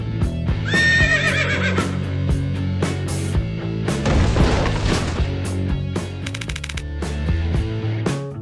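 A horse neighs loudly near the start, followed by clip-clop hooves, crashing and bursts of gunfire-like noise in a chaotic mishap scene, with no talking.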